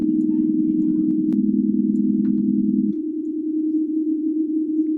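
Sine wave run through FL Studio's Fruity Chorus effect: a steady, loud pure tone with fast wavering modulation that shifts to a slightly higher pitch partway through, alone with no voices.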